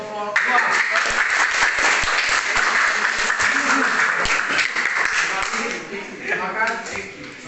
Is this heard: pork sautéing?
no